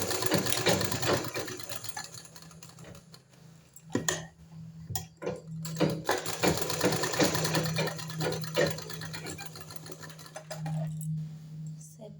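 A sewing machine stitches fabric for a latkhan design in a rapid mechanical chatter, running in bursts separated by brief pauses and clicks, close and clear.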